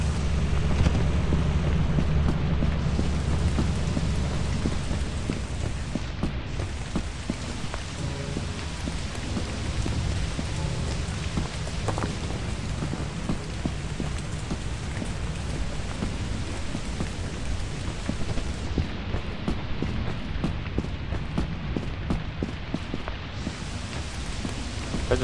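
Steady rain pours down continuously in the video game Lethal Company, a dense hiss of drops with occasional low rumbles underneath, no voices.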